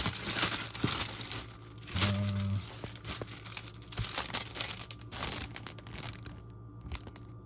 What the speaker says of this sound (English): they're individually wrapped in plastic. Let me take it out.